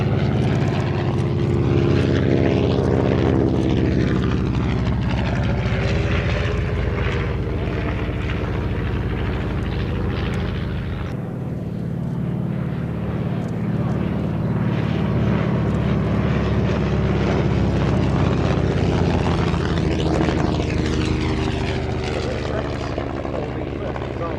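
A vintage air racer flies past at an air show, its engine a loud, continuous drone that swells and recedes with changing pitch as the aircraft passes and turns overhead.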